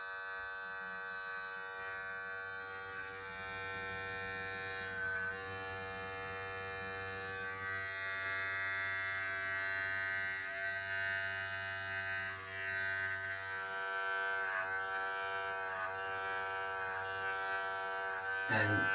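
An electric hair clipper fitted with a number 2 attachment, blade closed, buzzes continuously while blending a home haircut, its steady motor whine shifting slightly as it moves through the hair.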